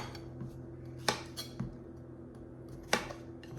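A kitchen knife lops the ends off zucchini on a cutting board, making two sharp, close knocks a couple of seconds apart, with a few lighter taps and clicks between them in a quiet room.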